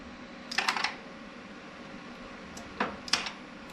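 Someone mimics the click of a car's ignition switch being turned on during an LS engine swap: a quick cluster of sharp clicks, then two more crisp clicks a few seconds later, close and dry with no talk.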